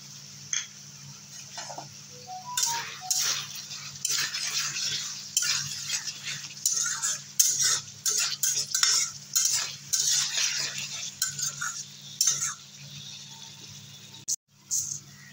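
Tomato and egg sautéing in a pan while a spoon stirs, with irregular scraping and clinking strokes against the metal over a faint, steady background hum, close and moderately quiet.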